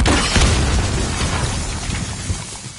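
A grenade detonates in a multiplayer shooter game, a loud, broad boom that rolls out and rumbles on for a few seconds with a dense low-end tail.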